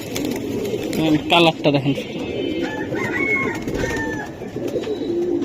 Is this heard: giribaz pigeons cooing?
yes